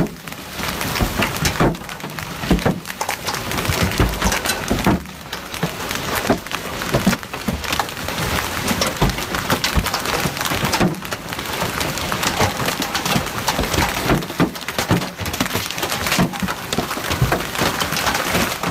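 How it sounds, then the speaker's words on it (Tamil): Hailstones pelting down outdoors during an extreme weather event, a dense, steady rattling patter like heavy rain striking hard surfaces, loud and continuous throughout with no voices. "ஆலங்கட்டி மலையை காருக்குள்ளே இருந்து பார்த்துருப்பீங்க, வெளியில இருந்தும் பார்க்கணும்ல"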